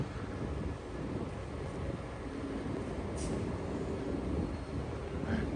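A Sydney Trains train sits at a station platform, heard as a steady low rumble of idling equipment mixed with wind buffeting the microphone, with a brief hiss midway and no talking.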